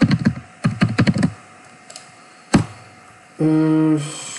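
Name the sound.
typing a git command on a computer keyboard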